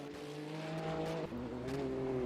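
Radical prototype race car at Okayama International Circuit in a racing video game, a steady high engine whine that shifts pitch mid-run, with a faint tire squeal, continuous and moderately close.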